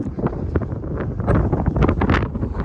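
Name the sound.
wind blowing through a tin roof during a dust storm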